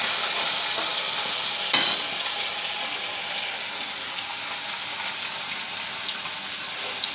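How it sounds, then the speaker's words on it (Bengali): Fish frying lightly in a pan gives off a steady, dense sizzle close up, with one sharp clink of a utensil partway through and no voices. "এই মাছগুলো আমি একটু হালকা ভেজে নেব, বেশি ভাজবো না।"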